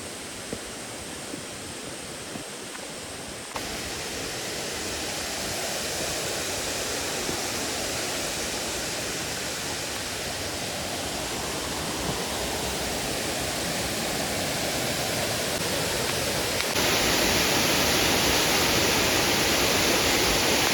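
A steady roar of rushing water, broad and continuous like a waterfall, growing slightly louder and brighter toward the end.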